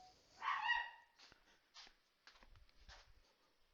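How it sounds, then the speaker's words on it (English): A pet dog growls in a rough, harmonic burst near the start, then softer grumbling sounds and low thumps follow. The dog is close by indoors, and no one speaks. "my dog is growling at something."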